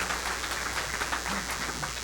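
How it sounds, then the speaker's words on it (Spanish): Faint, distant applause from a church congregation during a Spanish-language service, a soft, continuous wash of clapping under a low background hum. "Vamos a dar un aplauso al Señor"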